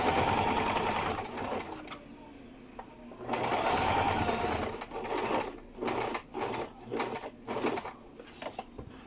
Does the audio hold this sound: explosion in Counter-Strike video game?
no